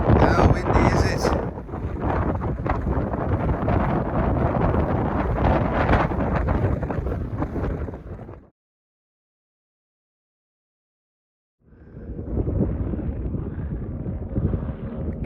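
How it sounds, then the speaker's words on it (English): Strong gusty wind buffets the microphone on a ferry near North Uist in the Outer Hebrides, a loud roaring rumble that drops to silence for about three seconds before returning at full force. "How windy is it?"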